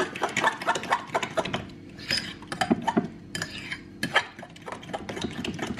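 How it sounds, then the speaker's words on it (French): A spoon stirs and scrapes through a tuna tart filling of flaked tuna in a bowl, giving a run of close, irregular clinks and scrapes with brief pauses between strokes. "Je mélange le tout."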